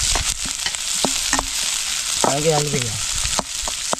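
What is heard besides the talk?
crab gravy frying in a pan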